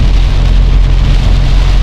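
Heavy rain pours steadily under dark skies in Fang, Thailand, a dense, constant roar with a low rumble throughout and no voices.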